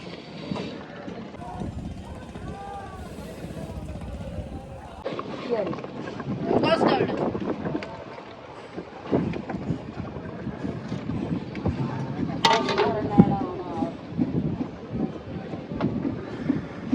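Strong wind buffeting a microphone aboard a river fishing boat, steady rumbling gusts that swell and drop, with voices talking throughout and occasional clattering.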